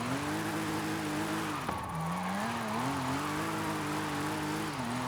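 A car in Forza Horizon 5, a lightweight resto-mod built from aluminium and carbon fiber, drones steadily with its engine note rising and falling through gear changes, loud and close.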